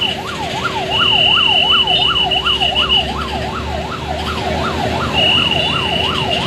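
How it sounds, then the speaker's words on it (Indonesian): An ambulance arriving at an electronics warehouse fire in Sayung, Demak, gives off a loud, close, wailing siren that swoops up and down in fast, even cycles over a running engine, and a higher tone sounds now and then. "ambulan memasuki lokasi."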